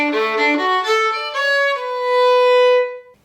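A solo fiddle plays an arpeggio variation on a traditional Scottish jig, the notes rising and falling, then settling on one long sustained note, bright and close with no voices.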